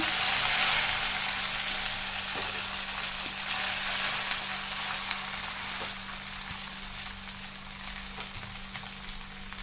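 Rice and cumin fry in a hot pan with a loud, continuous sizzle that slowly softens, with a steady low hum and a few faint taps underneath.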